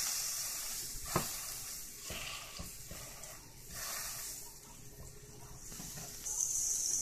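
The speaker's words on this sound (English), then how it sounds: "I'm just heating them up a little to put them on my sausage and pepper sandwich" Sausage and peppers warming in a pan give off a steady soft sizzle and hiss, with a few faint clicks and pops, quiet and close.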